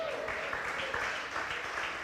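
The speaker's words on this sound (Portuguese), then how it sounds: "Pode aplaudir ao Senhor" A church congregation applauds in a dense, steady wash of clapping that stays even and fairly loud throughout, with some voices mixed in.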